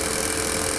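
A Consew servo motor for a sewing machine runs slowly at 1500 RPM, giving a steady, continuous close whirring hum with faint rattly vibration and no pauses.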